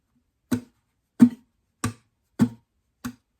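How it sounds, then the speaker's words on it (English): Five evenly spaced, sharp percussive knocks from a thumb striking an acoustic guitar body during muted strumming, each dry and quick with silence between. "sort of hitting his guitar a little bit with his thumb when he's doing those strummings"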